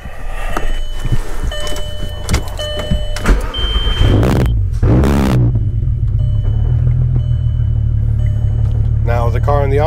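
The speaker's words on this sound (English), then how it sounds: "Let's turn the car on." A car being switched on during a dashboard warning light fix: warning chimes and electrical clicks, a brief starter whir, then the engine settles into a steady low rumble near the microphone.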